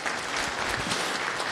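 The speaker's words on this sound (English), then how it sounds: "Cool, round of applause for Ron." Audience applause at a Go programming lightning talks event, steady dense clapping from a crowd filling the room at an even level throughout, with no speech over it.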